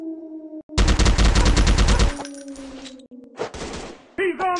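Rapid automatic gunfire in a shooting video game, a fast burst of loud close shots for over a second, followed by scattered single bangs over a steady game background tone.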